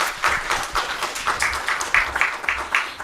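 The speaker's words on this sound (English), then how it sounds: "May I have a round of applause" Audience applause at a national DigiLocker conference, a steady burst of many hands clapping with rhythmic swells, fairly close and continuing alone for several seconds.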